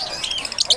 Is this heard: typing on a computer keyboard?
no